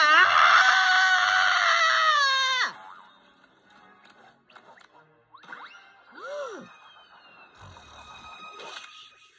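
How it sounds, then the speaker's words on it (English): A cartoon character on a roller coaster lets out a long, loud, high scream that cuts off sharply, then quieter whooshes and cartoon sound effects follow. "He's screaming."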